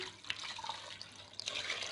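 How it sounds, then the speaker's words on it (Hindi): Water poured from a tap into a cooking pot to boil pumpkin for pumpkin cutlets, a faint continuous splashing and trickling stream with small surges, heard alone at low level. "यहाँ पे मैंने एक पतीली के अंदर कद्दू ऐड करनी है तो इसके अंदर मैं पानी ऐड कर देती हूँ"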